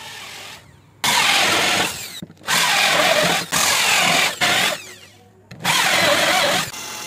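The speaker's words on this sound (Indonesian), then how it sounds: "kita lubangin di tengahnya dengan bor 2 cm" A power drill whirs loudly up close in four long bursts, boring a 2 cm hole into scrap plywood, stopping briefly between each.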